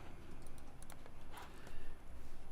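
Rapid keystrokes click on a computer keyboard while shapes are nudged in Adobe Illustrator, quiet and close, a steady patter of taps with a few sharper clicks.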